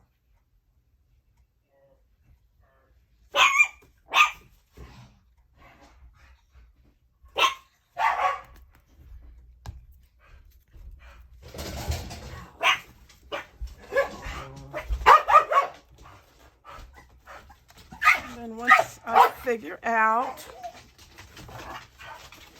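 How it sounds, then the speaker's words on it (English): Dogs bark nearby indoors during a craft session, with a few sharp barks early and more later, and a person talks over and between them. "excuse the dogs"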